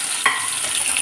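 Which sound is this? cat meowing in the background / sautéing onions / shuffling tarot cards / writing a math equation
sautéing onions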